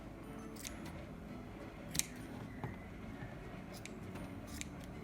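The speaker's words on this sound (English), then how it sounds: "With these scissors that aren't great, but that will do." Scissors that aren't very sharp snip through the yarn crest of a boho double-hoop wall hanging, making faint, crisp clicks spaced irregularly over a quiet room background.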